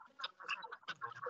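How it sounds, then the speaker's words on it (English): A duck on a children's TV show gives a run of quick, nasal quacks in uneven bursts, close and fairly clear with no speech. "I thought I just heard a duck."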